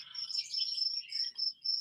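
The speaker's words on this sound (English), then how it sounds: "Man, that cricket is loud." A cricket near a front porch at night gives loud, close, high-pitched chirping trills in quick repeated bursts, with nothing else audible.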